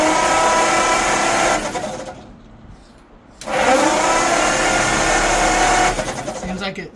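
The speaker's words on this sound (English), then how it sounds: "Cranks over pretty good with the plugs out." Engine of a 1951 Ford F1 cranking over with the spark plugs out, a fast steady whirring churn from the starter that stops briefly, then resumes just as strongly, close and loud.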